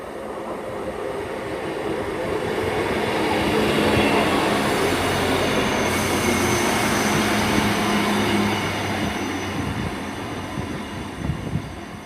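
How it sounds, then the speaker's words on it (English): A Great Western Railway class 158 diesel unit runs into Bristol Parkway station, its rumble swelling to a loud, sustained roar of wheels and engine before easing slightly, with faint squeals near the end. "coming in now is a 14:52 service to Great Malvern from Southampton Central."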